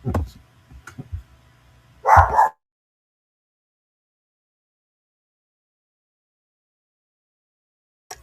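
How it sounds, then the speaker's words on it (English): A dog barking indoors: a few soft low yips and thumps, then one louder short bark burst, followed by long silence. "I had to stop my dog from barking"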